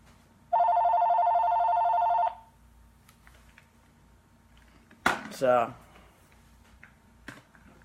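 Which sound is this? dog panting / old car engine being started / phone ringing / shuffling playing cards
phone ringing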